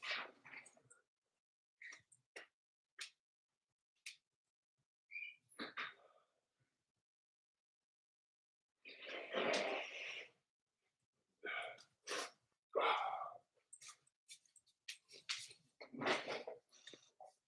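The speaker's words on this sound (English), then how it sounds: "I have to blow my nose." A series of short, breathy bursts of air through the nose, spaced irregularly with quiet gaps, some longer honking blows midway.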